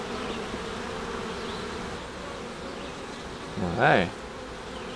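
A virgin honeybee queen pipes inside a hive, a short rising toot that stands out near the end over the steady, dense hum of the colony, with a brief spoken word nearby.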